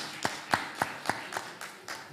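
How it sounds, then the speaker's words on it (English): Sparse, quiet hand claps follow one another at a steady pace as a small audience applauds the winners of an advanced-category spelling bee, with no voices over them. "And yeah, give them a round of applause."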